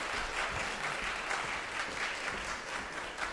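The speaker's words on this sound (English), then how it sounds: "Let's give her another round of applause" Audience applause at a competition's semi-finals and finals event, a sustained even round of clapping from a crowd, moderately distant and without talk.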